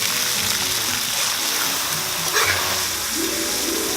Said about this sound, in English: These get tossed in hot oil until they're crispy.